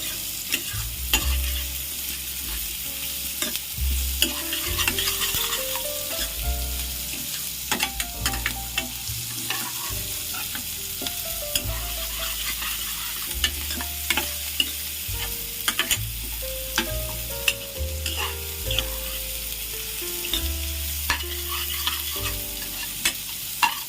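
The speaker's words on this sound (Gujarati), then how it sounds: "આપણે આ રીતના હલાવવાનું છે જ્યાં સુધી આપણી કોબી સડી ના જાય ત્યાં સુધી." Salted cabbage sizzles as it fries in a pan for fried momo filling. A utensil stirs it continuously, with steady frying hiss and frequent scrapes, under low background music.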